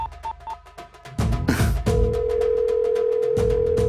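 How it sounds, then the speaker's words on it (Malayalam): Phone ringtone played over a speakerphone: a few short beeps, then a loud, steady, sustained electronic tone that holds to the end, with no speech. "കേട്ടില്ലേ, ഇതാണ് റിംഗ് ടോൺ."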